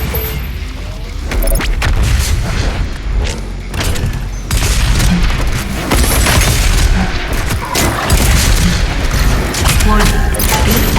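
BFG 10,000 firing in the video game Doom Eternal, a continuous dense barrage of loud booms and explosive blasts with crashing debris, intense and unbroken throughout.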